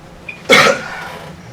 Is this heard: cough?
yes